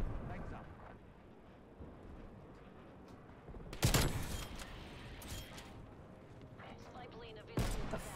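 Gunfire in the video game Call of Duty Black Ops Cold War multiplayer: a quiet stretch, then a sharp burst of shots and a later blast, amid muffled game sounds.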